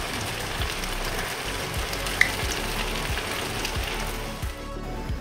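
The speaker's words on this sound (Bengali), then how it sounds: "কড়াইতে এক এক করে পিঠেগুলো ছেড়ে দিয়ে ভেজে নেব" Semolina pitha cakes sizzle in hot ghee in a wok over a high flame, a continuous crackling fry with soft periodic thumps from a spatula or pan.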